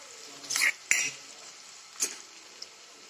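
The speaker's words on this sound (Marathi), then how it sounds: "आता हे कांदा चांगला भाजला की ह्याच्यामध्ये थोडं बेसन भाजून घेते" Chopped onion and gram flour sizzle and fry in a small kadai while a spoon scrapes and stirs in a few sharp bursts, with quieter sizzling between the strokes.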